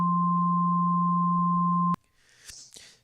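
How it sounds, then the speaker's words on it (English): A steady low-pitched sine tone with a fainter high sine tone above it plays continuously for about two seconds, then cuts off abruptly to quiet background noise with a few soft rustles, demonstrating panned tones for 3D mixing depth. "So now you have the high-pitched sine wave in the left ear,"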